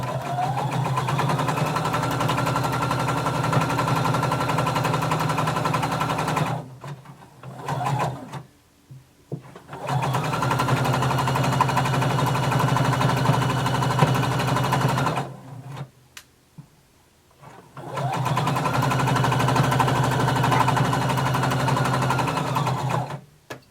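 Sewing machine running a side seam with a regular length stitch, in three long steady whirring runs separated by short pauses with handling noises, loud and close.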